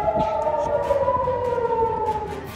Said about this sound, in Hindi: इसराइल में बड़े पैमाने पर सायरन बज उठे